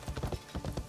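Horse hooves clip-clop in the video game Assassin's Creed Shadows, a quick, close, rhythmic run of muffled thuds over a little under a second.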